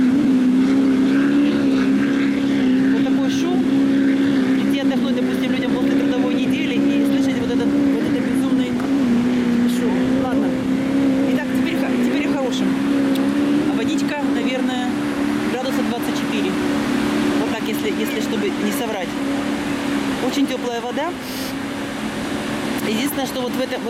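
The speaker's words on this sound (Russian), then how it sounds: "Один прошел катер, второй катер." Steady droning engine of a motorboat running close by on the ocean off Cocoa Beach, with someone talking over the continuous motor noise throughout.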